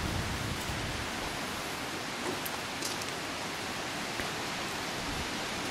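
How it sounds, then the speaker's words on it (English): Steady, broadband wind rushes outdoors on a cold evening, buffeting continuously at a constant level without pauses. "It's windy out here"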